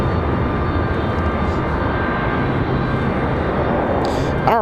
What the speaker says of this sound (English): that's CRJ, Endeavor 5049, another odd flight